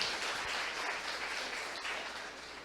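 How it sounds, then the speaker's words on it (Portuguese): Brief audience applause for a participant at a PHP programming talk, a short burst of many hands clapping together from a room of listeners, fairly soft and even, tapering slightly as it ends. "Uma salva de palmas para o Diego."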